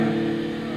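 Buick GNX with a 3.8 V6 turbo engine hums at a steady mid pitch in Gran Turismo 6, a brief, even drone with no clear rise in revs.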